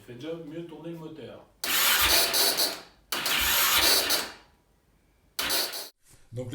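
A quad's engine, a Yamaha Raptor, cranking on battery booster power, two long loud bursts of turning over close by and then a shorter third, with a voice speaking in between.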